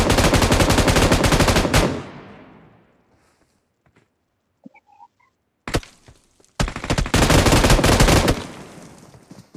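Automatic gunfire in the PUBG Mobile video game, with dense rapid bursts for about two seconds, then near silence with a few faint clicks, followed by more loud sustained bursts of fire.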